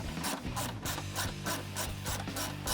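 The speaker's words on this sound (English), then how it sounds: "I'm going to take my 1/4-inch drive with my 10 millimeter." A 1/4-inch drive ratchet with a 10 mm socket loosens a bolt on a 2018-2022 Mustang EcoBoost air intake box, its pawl clicking in quick regular strokes, close and clear with no talking.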